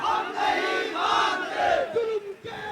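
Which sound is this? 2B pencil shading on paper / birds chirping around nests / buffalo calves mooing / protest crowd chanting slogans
protest crowd chanting slogans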